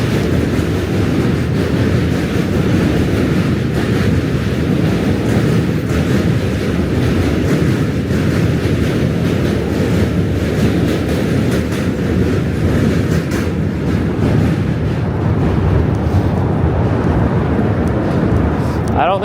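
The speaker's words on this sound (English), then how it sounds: "another Q train." A New York subway Q train passes near the Brooklyn Bridge, a loud, continuous rumble with rail clatter and wind buffeting, heard steadily throughout.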